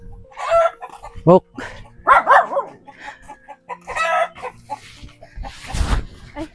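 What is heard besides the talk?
chicken clucking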